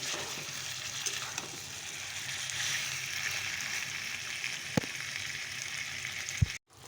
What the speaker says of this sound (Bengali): তো চলো চিকেনটাকে ভালো করে কষিয়ে নিই